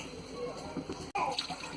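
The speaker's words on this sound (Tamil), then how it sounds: "இப்போ வந்து பார்த்தீங்கன்னா 1 கிளாஸ் தண்ணி ஊற்றி விட்றேன்." A glass of water is poured into a pan for Maggi noodles, a soft, close splashing trickle that is faint and briefly cuts out before resuming.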